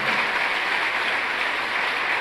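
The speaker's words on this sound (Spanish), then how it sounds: "Denle un fuerte aplauso al Señor." A church congregation gives the Lord a loud, sustained round of applause during a Spanish-language service, a dense, steady wash of clapping from many hands with no voices on top.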